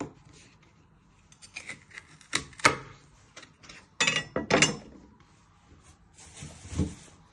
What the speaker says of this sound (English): Next step, you're going to prep your celery. You want 2 sprigs. You're going to trim your ends.